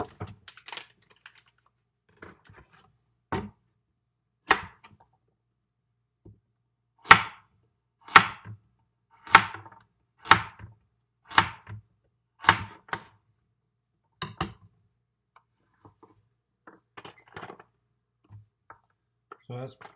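Two large carrots are chopped on a board in sharp, sparse knife strikes, a quick run of evenly paced chops in the middle with scattered taps before and after.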